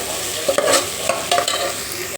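Vegetables for veg biryani sauté in a hot pan, with a loud, continuous sizzle broken by several scraping stirs of a spatula.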